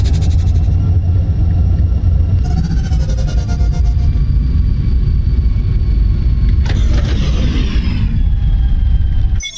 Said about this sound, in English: Accelerating to sublight.